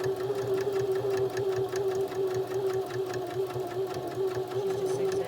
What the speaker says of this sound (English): She's just zigzagging right along that curve.